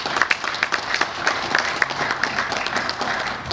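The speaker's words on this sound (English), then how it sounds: "I think we should give him a big round of applause" Applause from a conference audience in Detroit, a steady mid-loud patter of many hands clapping with a few sharper individual claps standing out, continuing throughout.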